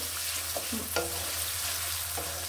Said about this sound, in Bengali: পেঁয়াজটা ভালোভাবে ভেজে নিব।